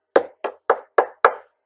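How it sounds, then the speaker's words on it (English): Five sharp knocks on a wooden surface in an uneven rhythm, close and fairly loud, each with a short resonant decay and the last one the hardest. "Knock on wood."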